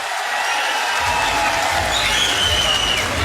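An audience claps through a political speech by Mukhiya Gurjar, a dense, steady patter of many hands, fairly loud and continuous, with a voice speaking over it.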